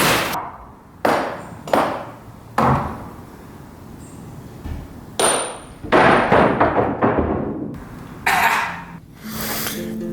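A hammer strikes again and again in sharp, irregular blows, each a loud close thud with a brief rattle, and a burst of clattering knocks near the end. No one speaks.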